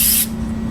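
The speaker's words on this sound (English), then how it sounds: "I'll take a little spray first just to make sure it's staying light" Light spray paint hisses briefly onto molded plastic, a single short burst that cuts off after a fraction of a second, leaving a low steady hum behind.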